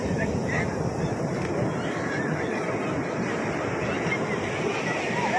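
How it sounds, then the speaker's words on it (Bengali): Big sea waves break on the beach at Puri in a continuous broad roar mixed with wind buffeting the microphone, while people talk over it. "কত দূর পর্যন্ত ঢেউগুলো এত বড় বড় আসছে যে কত দূর পর্যন্ত চলে আসছে, উঁচুতে উঠে আসছে"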